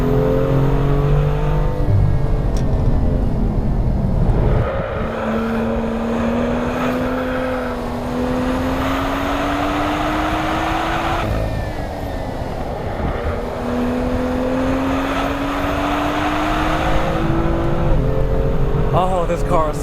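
A 2016 BMW M2 engine runs at full power on a track, a loud, steady in-cabin drone with rising pitch through each gear and brief dips at the shifts. A driver talks over it.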